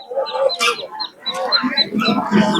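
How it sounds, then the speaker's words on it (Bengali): Muscovy ducklings peep in shrill, rapid bursts at a traditional rural poultry market in winter, loud and near, with voices mixed among the calls. "এই যে বেশ সুন্দর চীনা হাঁসের বাচ্চা নিয়ে বসে আছে"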